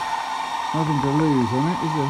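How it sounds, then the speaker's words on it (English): A hair dryer runs as a steady whine throughout, with someone talking over it partway through. "I don't know whether the hairdryer will make any difference"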